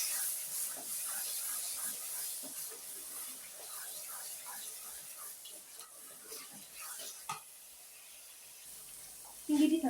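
Berbere pepper frying in a pan gives a soft, steady sizzle with scattered stirring scrapes and clicks, while a voice speaks quietly over it, ending in a louder knock.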